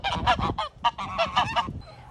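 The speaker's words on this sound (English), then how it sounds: "Mating in the goose pen is a spectator sport, with the peanut gallery cheering them on and celebrating when it's done" Geese honking in a farm goose pen during mating season, a loud run of repeated close honks in quick bursts, several birds calling over one another before the calls fade out.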